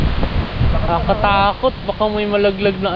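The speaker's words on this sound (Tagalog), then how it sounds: "Grabe lakas ng hangin" Strong wind gusting outdoors under coconut trees makes a low, blustery rumble against the microphone, heard beneath a person speaking throughout.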